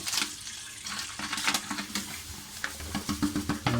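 Water and sugar are poured into a container to make a 50-50 syrup, a soft, close splashing and trickling with uneven bursts, fairly quiet and heard alone.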